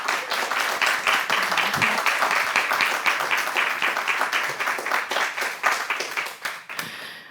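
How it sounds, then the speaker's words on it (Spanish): Loud, dense audience applause with sustained clapping for a speaker at a design event, steady for about seven seconds before tapering off at the end. "por favor, un fuerte aplauso para Carolina Jiménez."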